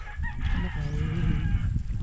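A red rooster crows nearby, a drawn-out call over low background noise and farmyard murmur.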